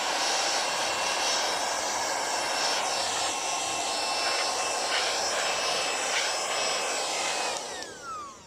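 A loud, steady whine of a multifunction vacuum cleaner that sucks and blows dust runs nearly the whole time, close by, its airflow shifting slightly before cutting off near the end.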